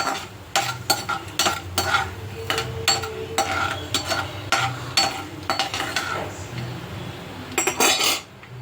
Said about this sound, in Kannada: ಸ್ವಲ್ಪ ಚಟಪಟ ಅನ್ನಲಿ ಕಡಲೆ ಬೀಜ ಹಾಕ್ತಾಯಿದ್ದೀನಿ. ಸ್ವಲ್ಪ ಫ್ರೈ ಆಗಲಿ.